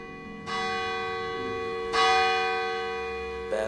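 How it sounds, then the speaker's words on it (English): A church bell tolls three times, each deep ringing stroke hanging on with a long humming decay before the next, close and loud, with no other sounds. "Bell again tolled one."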